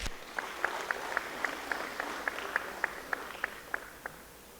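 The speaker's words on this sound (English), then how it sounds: "A round of applause to them as they take the stage." Steady, evenly spaced claps ring out at a school prize-giving day as Year 11 dancers take the stage, about a dozen sharp hits at a brisk, regular beat over a quiet room.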